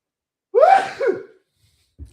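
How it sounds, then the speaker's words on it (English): A single sharp sneeze from a person, a loud gasping intake rising into an explosive burst with a short second tail, followed by a faint rustle. "And I'm about to sneeze"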